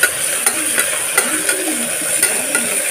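Onions fry in a pan for vegetable biryani with a steady loud sizzle, while a utensil stirs and clicks against the pan at intervals.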